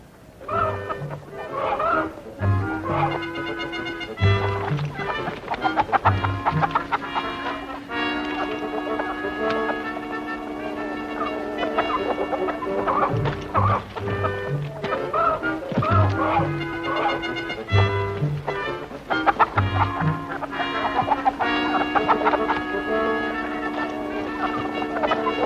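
Chickens clucking and squawking repeatedly around a barn in the 1962 war drama series Combat!, loud and close, with bursts of agitated calls throughout and a voice briefly heard.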